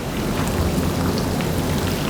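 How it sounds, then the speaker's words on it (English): Steam hissing off a maple syrup evaporator on a rainy day at a maple farm, a steady, loud broadband rush that holds unbroken throughout with a low rumbling undertone. "Releases that steam real quick."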